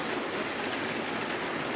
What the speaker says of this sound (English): Bear in mind these locos are running over track insulators as well